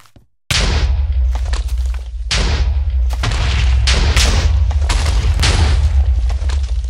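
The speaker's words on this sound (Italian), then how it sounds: "l'esplosione mi ha quasi ucciso" Loud, continuous Minecraft explosions and booming blasts, with repeated heavy bursts rumbling one after another for several seconds after a brief silent start.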